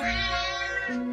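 One long, loud, close cat meow with a crying, caterwauling quality, sustained and wavering, with no other sounds around it.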